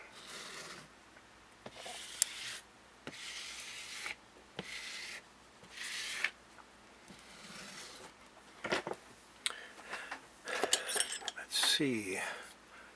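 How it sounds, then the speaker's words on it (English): A metal spoon pressed and rubbed across a comic book cover, giving soft repeated scraping strokes with occasional light taps and clinks, fairly quiet and close, with no talk. "take the spoon and push it down"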